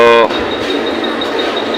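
A Mumbai local train bound for Churchgate pulls into the platform. A short horn toot is followed by loud station and rolling-train noise, with people talking over it.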